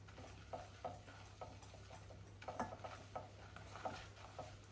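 Besan (gram flour) dry-roasts in a pan on low heat while being stirred to break up lumps: soft, faint scraping strokes in an irregular rhythm over a low, steady hum.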